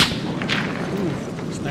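A sniper rifle shot in the video game ARC Raiders rings out near the start as a sharp crack with a rolling tail, followed by faint distant gunfire and a voice talking under it.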